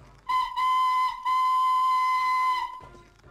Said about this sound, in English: Charlie blew his whistle as loudly as he could.